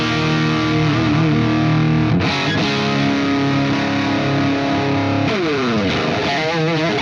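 An electric guitar plays through a Marshall amp at full volume with heavy distortion and a little reverb, sustained chords and bends ringing loud and continuous, then a fast descending run near the end.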